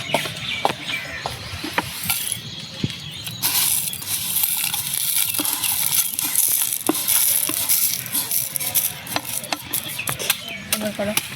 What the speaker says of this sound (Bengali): মশলাগুলো একটু গুঁড়ো করে দে